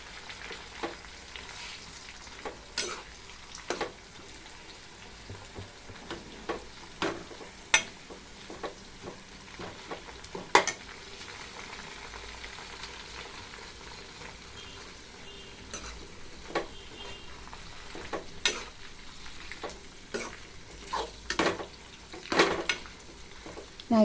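Hibiscus flowers fry in herbal hair oil, making a soft, continuous sizzle punctuated by sharp clinks and scrapes of a utensil against the pan at irregular intervals, with no voices.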